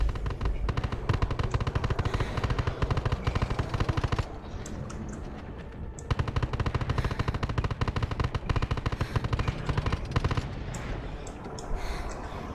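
Sustained automatic gunfire in the survival shooter Undawn, dense rapid bursts running almost continuously with a short break midway, loud and close with no speech.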